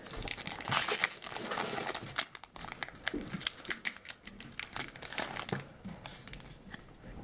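Pokémon trading card booster pack wrapper being torn open close up, a quiet continuous crinkling and ripping of foil plastic with sharp irregular snaps.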